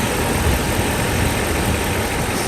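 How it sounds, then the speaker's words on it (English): A Mercedes S500 engine runs after a timing chain and guides repair, giving a steady, even mechanical hum and rumble close by, with no talk. "Let's just give it a little rev"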